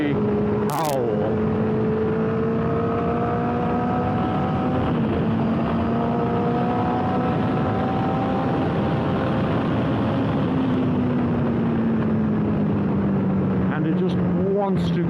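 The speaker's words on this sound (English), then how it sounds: "just listen to that 4-cylinder absolutely howl" A 2009 Honda CBR1000RR Fireblade four-cylinder engine howls loudly and continuously for the whole stretch, its pitch rising and falling as the bike accelerates through a corner, with steady wind roar underneath.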